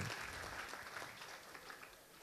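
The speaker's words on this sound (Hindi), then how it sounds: "दीपिका के लिए ताली बजाओ जोरदार से।" A school audience claps together in a steady, dense wash of applause during a religious discourse at a senior secondary school. The applause holds fairly evenly for a couple of seconds and fades slightly toward the end, with no clear talking over it.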